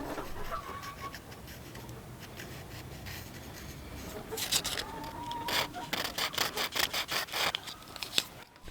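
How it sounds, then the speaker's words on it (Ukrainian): A small handmade fishing lure reinforced with superglue is sanded by hand with sandpaper, starting as a faint low rubbing and turning into quick, close, rhythmic scratchy strokes, with no talking. "Зачищаємо наждачним папером."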